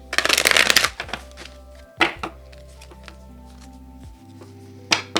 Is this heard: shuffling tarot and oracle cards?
yes